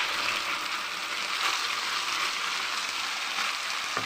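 Ground ginger-garlic paste sizzles in hot oil for a mutton kulambu, a steady, dense frying hiss that holds even and close throughout, with no voices.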